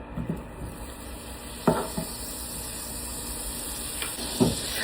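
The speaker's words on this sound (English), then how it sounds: "I'm going to put a little butter in my pan" Butter sizzling in a hot electric skillet, a steady hiss with a high whine beneath and a few soft knocks of a utensil against the pan, no voices.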